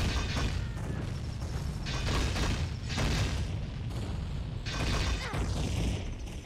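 Bombs explode in Ocarina of Time, loud booms and crashes rolling out in repeated bursts over a dense, constant game soundscape.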